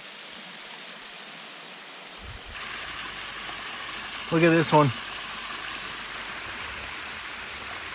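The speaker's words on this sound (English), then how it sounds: "It's just pouring out of the mountainside." Natural hot spring water pours out of a mountainside, a steady rushing hiss that grows fuller partway through, with someone briefly speaking over it.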